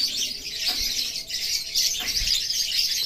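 Lovebirds in a shop calling steadily, with bright, dense, high chirping and chattering that runs throughout at moderate loudness, and a couple of soft low thumps.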